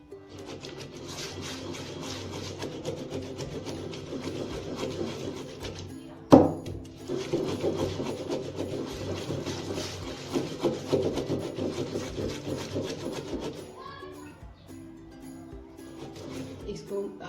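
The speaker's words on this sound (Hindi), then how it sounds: "इसको आपने रगड़ के बिल्कुल मुलायम बन जानी चाहिए" Poppy seeds are rubbed and ground into a smooth paste for a curry, a steady close rasping scrape that runs continuously with one sharp knock partway through, and a voice speaks over parts of it.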